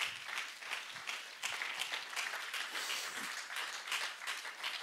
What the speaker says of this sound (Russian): Ты можешь сказать амен и дать громкие аплодисменты Господу.